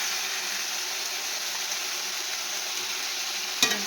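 Food frying in a pan and being gently stirred, a steady loud sizzle and hiss running throughout, with a brief sharp clink of the utensil near the end.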